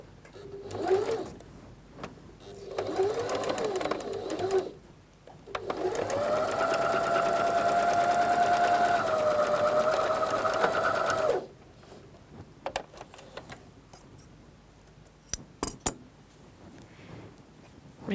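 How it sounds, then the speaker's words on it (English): A sewing machine runs a straight stitch along a dress seam in a steady whir of about six seconds, with shorter bursts of stitching before it and light handling clicks after. "You're sewing along your seam with a straight stitch."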